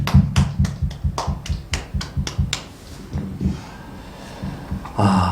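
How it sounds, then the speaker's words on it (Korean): A few people at a New Year's worship service give a short, sparse round of clapping for God, with separate claps in an uneven rhythm. The clapping thins out and then a brief burst follows near the end. "우리에게 은혜 주신 하나님께 영광의 박수 올려드리겠습니다"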